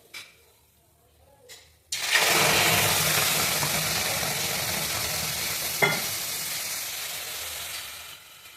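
Spice masala hits hot oil in a pan for hilsa fish, bursting into a loud, steady sizzle after a quiet start, with a brief clatter partway through that fades into continued frying.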